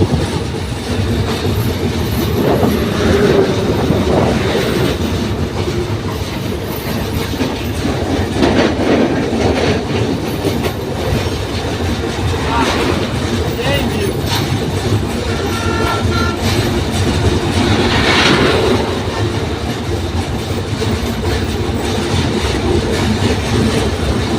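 A train rumbles steadily across the long Jamuna rail bridge at night, wheels clacking over the joints with a continuous loud roar, a horn sounding partway through and faint wheel squeal.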